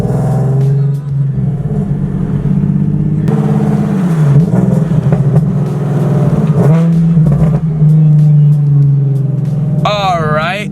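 A Nissan 370Z with a newly fitted oil catch can drives along, its engine droning steadily and rising and falling through revs and gear changes, loud and close throughout.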